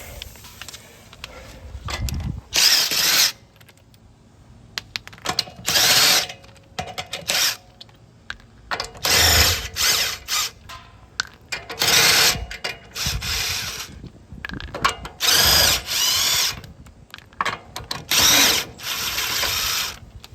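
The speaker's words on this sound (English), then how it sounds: "Here's where the electric impact comes in." A cordless electric impact wrench spins car lug nuts off during a tire rotation, firing in repeated loud bursts of rattling hammer blows separated by short pauses, close up, without talk.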